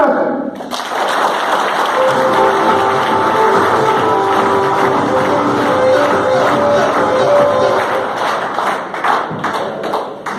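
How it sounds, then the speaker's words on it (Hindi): A crowd at a business meeting in Dausa applauds loudly and steadily for about ten seconds, with dense, sustained clapping in a hall. "तो जोरदार जश वाली ताली चाहिए।"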